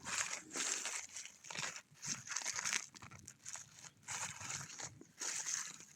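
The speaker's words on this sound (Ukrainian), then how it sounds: "зараз я познімаю скотч" Packing tape being peeled and ripped off a box of garden figurines in several long, crackly pulls, close by, with short pauses between strips.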